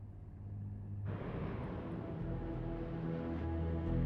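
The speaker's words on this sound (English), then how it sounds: "British planes took off for the German industrial city of Essen." British bomber planes taking off in 1943 on a raid to Essen, a low engine rumble that suddenly swells into a loud, dense roar and keeps building.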